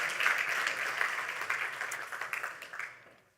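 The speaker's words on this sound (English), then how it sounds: "Let's have a round of applause for these here contributors." An audience gives dashboard contributors a round of applause at a community award segment, a dense wash of clapping that holds steady, then thins and fades away.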